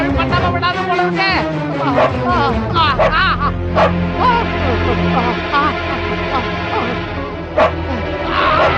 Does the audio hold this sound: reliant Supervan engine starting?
no